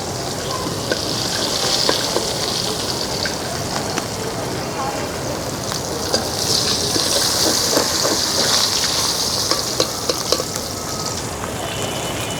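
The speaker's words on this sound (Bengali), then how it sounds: "মাছ সুন্দর ভেজে উঠছে" Fish sizzles loudly and steadily in hot oil on a clay stove, a dense crackling hiss with sharp pops throughout, close by, while someone talks intermittently over it.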